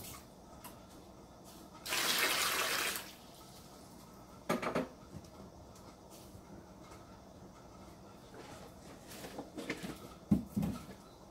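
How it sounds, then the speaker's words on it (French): Hot water poured from a kettle or jug into a bucket for a foot soak, one loud rushing splash lasting under a second, followed by scattered knocks and clinks of the bucket and containers in a quiet room. "dans mon seau là, je vais mettre de l'eau chaude, pas brûlante mais chaude vraiment pour ramollir toutes les peaux mortes là"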